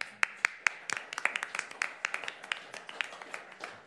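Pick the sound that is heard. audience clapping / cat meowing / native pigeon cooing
audience clapping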